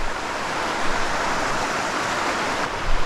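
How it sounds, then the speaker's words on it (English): A small, low-running creek near Tellico Plains after a dry spell gives a steady broadband rush of flowing water, close and constant, with no voices. "first look at a little creek that I picked"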